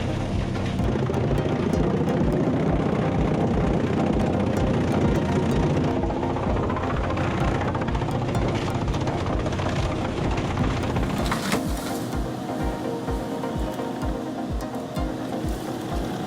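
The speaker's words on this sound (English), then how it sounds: "The compact excavator-mounted TMK300 tree shear roars to life" A compact excavator-mounted TMK300 tree shear engine runs steadily and loud throughout, a continuous heavy rumble that changes character slightly partway through, with no voices.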